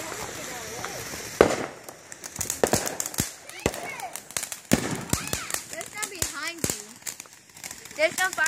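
Fourth of July firecrackers and fireworks go off in sharp, irregular bangs and crackles at an outdoor gathering, while children and adults talk between the blasts.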